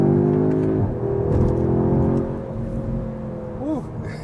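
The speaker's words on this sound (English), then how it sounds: "Exhaust sounds good too for a stock one" A 2025 Audi S3 with a stock exhaust accelerating on bumpy roads, engine droning loud and steady as it pulls, tone shifting through the run with a brief rising whir near the end.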